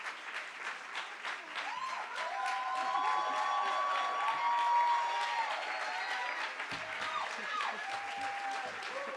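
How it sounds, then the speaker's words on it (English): A conference audience claps at the close of a keynote, a dense round of applause that builds and holds strongly before thinning, with faint voices mixed in. "I want to give another round of applause for Professor Ron Sullivan."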